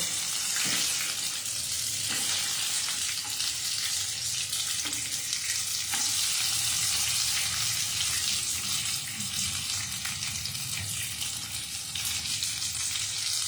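Paneer pakoras deep-frying in hot oil give a steady, loud bubbling sizzle that runs without a break, with a few faint clinks of a utensil and no voices.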